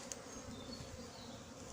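A hornet hums near a beehive tent, a continuous soft buzzing drone close by, with a faint tick at the start and no speech.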